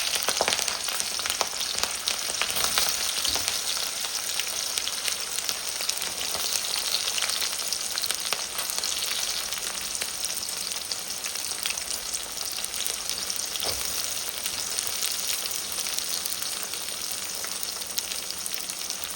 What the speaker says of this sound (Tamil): வெங்காயம், பச்சை மிளகா, தக்காளி இருக்குது, அதை கொஞ்சம் வதக்கணும்